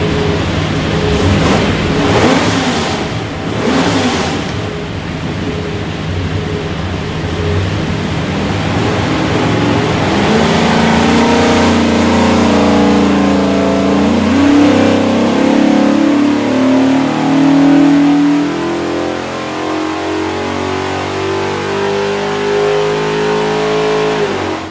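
A 427ci small block Ford V8 on a dyno roars loud and steady with no pauses, its pitch climbing through a long wide-open pull, with a resonant tone rising toward the end.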